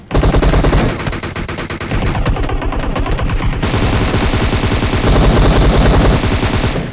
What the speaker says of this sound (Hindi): तभी धड़ल्ले से फायर करता वो वाला बंदा